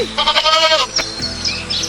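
A goat kid bleats loudly and close by in a wavering, quavering cry, followed by a second, shorter bleat.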